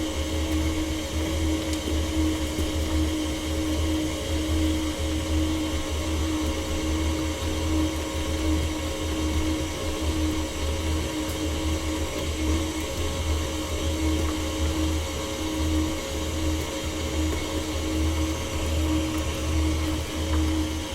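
An electric stand mixer beating cake batter for a coconut layer cake as egg yolks go in, a steady close motor whine with a low hum running unbroken throughout.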